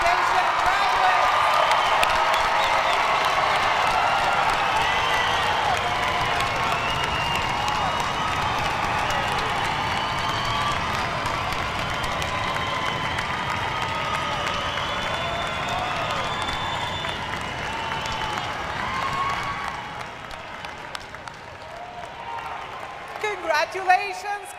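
A large crowd at a School of Education convocation ceremony claps and cheers for graduates in sustained applause, a few whoops mixed in, before the clapping thins and fades near the end.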